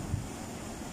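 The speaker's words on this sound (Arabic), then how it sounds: "لقينا البحر عالي كده زي ما انتم شايفين احنا جايين في ريح شمالي شرقي" Northeast wind gusting along the sea shore at the Rashid inlet, where the sea runs high; a steady broadband rush of wind noise on the microphone with a brief low buffet near the start, no voices.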